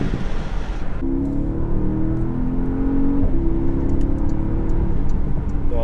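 A Porsche Panamera engine accelerates during a night drive, heard from inside the car as a steady, building drone that climbs gradually in pitch over a constant rumble.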